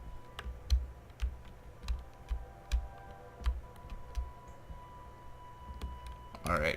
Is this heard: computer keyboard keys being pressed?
yes